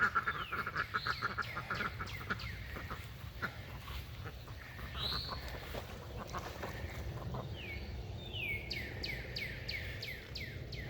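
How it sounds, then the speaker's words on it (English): Ducks quacking in a backyard pen, a run of short nasal calls repeating in bursts, moderately close, over a low outdoor background hum with no talking. "Happy duckies."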